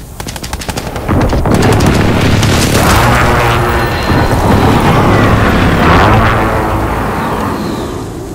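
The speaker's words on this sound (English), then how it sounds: "Enemy precision airstrike." Precision airstrike explosions in Call of Duty: Modern Warfare: loud, dense game blasts mixed with rapid gunfire-like bursts, building after the first second and rumbling continuously to the end.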